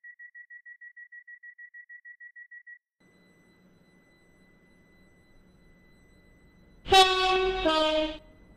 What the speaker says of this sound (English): This train is now approaching Stepford East.